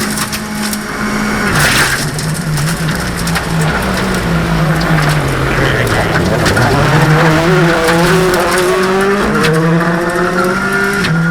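An M-Sport WRC rally car drives fast during testing, its engine loud and close, the pitch climbing and dropping through gear changes, with rough gravelly road noise underneath.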